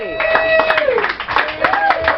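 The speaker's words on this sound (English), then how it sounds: "how about a round of applause for the set so far?" A small audience at the Anti-Folk Fest claps for a music set, scattered close-up hand claps mixed with voices talking and cheering over them.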